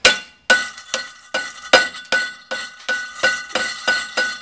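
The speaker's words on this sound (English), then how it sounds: "I like to take my rubber mallet." A rubber mallet strikes wood while a bow is being shaped, in about a dozen sharp, ringing knocks at a brisk, fairly even rhythm, close and loud with no talking.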